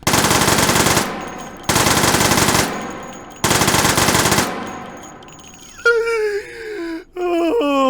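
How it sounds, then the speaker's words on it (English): A cursed gun in the VR shooter H3VR fires three long rapid bursts, loud and close with short pauses between, followed by a whining, wailing vocal-like sound near the end. "It has 4-round burst, and as we take a look here, 17-round burst."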